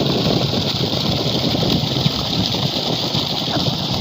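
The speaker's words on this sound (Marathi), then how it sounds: "हा आयचा तीन एच पीचा पंप एवढं पाणी मारतो आहे ही तीन इंची पाईपलाईन आहे पहा" A 3 HP solar agricultural pump drives water through a three-inch pipeline, giving a loud, continuous motorized hum and rushing flow that stays steady and close the whole time, with no voices.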